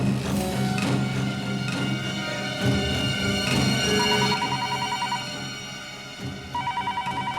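A telephone rings repeatedly in a busy room, its electronic trill recurring amid background clatter and murmur.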